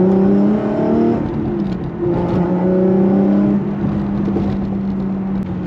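A mid-engine Lotus Evora sports car engine drones loudly and steadily from close by, right behind the cabin, its pitch rising and falling with throttle changes, no voices over it.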